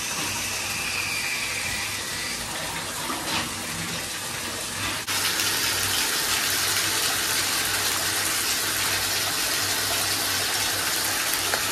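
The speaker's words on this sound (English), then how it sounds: "so I'm gonna take another bath." Water gushes steadily from a tap into a filling bathtub, a loud continuous rushing hiss that intensifies partway through and runs on without pause, with no talking.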